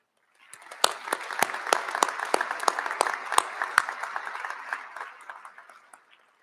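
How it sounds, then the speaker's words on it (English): Audience applause at an LSU business school commencement ceremony in December 2022, a room of individual claps building quickly, holding steady for several seconds, then thinning out and fading near the end. "Please join me in a round of applause for our dedicated advisors who organized today's ceremony"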